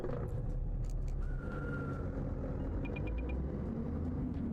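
Volvo FH Aero truck engine in Euro Truck Simulator 2, a steady low rumble with a faint rising whine and brief soft ticking on top, continuous and fairly quiet throughout.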